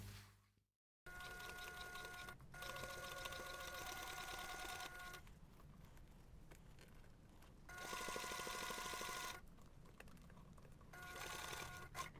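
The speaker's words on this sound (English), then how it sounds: "you're going to take this to the machine and we're going to stitch around all sides" A sewing machine stitches around a zipper pocket on a handmade bag, running in steady rapid bursts with brief pauses between runs, close and clear with no talking.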